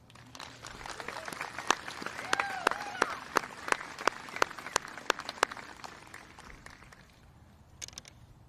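Scattered hand claps from a high school graduation audience greeting a guest conductor: sharp individual claps in a loose, fairly regular pattern over low room murmur, thinning out toward the end.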